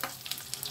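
Fried potatoes sizzle in a pan alongside potol and paneer, a soft steady crackle with small pops and stirring scrapes, heard briefly and fairly quietly.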